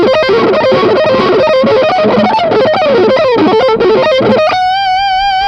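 Distorted electric guitar plays a fast diminished sweep arpeggio with effects, repeating notes rising and falling, ending on a sustained held note.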